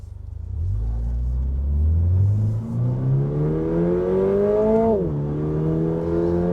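A Toyota GR86 boxer engine revs up steadily toward its 7,500 rpm limit, pitch climbing for several seconds before dropping sharply as the throttle lifts, then settling back to a lower drone.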